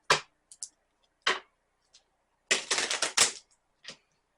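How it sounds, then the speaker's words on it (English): A deck of cards being shuffled in a few quick riffling bursts, with one longer flurry in the middle, close up and with no talking. "shuffle one more time"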